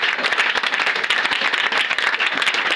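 A church congregation claps steadily and cheers during a deliverance prayer service, a dense, loud, continuous wash of hand claps with no pause.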